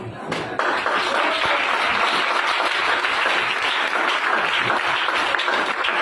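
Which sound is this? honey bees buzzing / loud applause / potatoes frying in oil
loud applause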